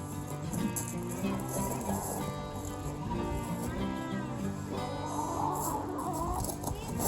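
Several chickens clucking in a backyard area, with overlapping steady clucks and calls close by, and voices and children talking underneath at times.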